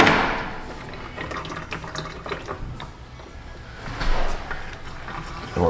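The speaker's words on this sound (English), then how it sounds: "It's already pushing out quite a bit of air." Air and dirty brake fluid spurt and gurgle from an opened caliper bleeder on a GMC Sierra during ABS pump repair, a close, uneven liquid trickle with small sputters and drips, no voices.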